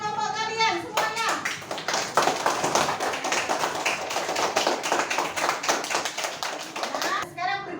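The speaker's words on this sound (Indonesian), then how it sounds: "Aplaus untuk kerja keras kalian, kerja kelompok kalian semuanya." A classroom of young children applauds, with dense, rapid, close clapping that lasts several seconds, and children's voices mix in at the start and end.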